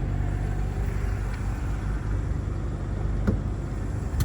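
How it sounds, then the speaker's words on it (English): A 2023 BMW X3 M40i idles after a cold start, giving a steady low rumble with a faint high whine, constant and fairly close, with no voices. "I hit the cold start on this car."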